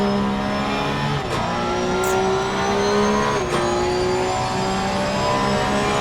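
A Porsche Cup race car engine in Assetto Corsa Competizione at Donington Park roars loud and close, holding a steady high drone with brief dips and pitch shifts as it shifts gears and revs.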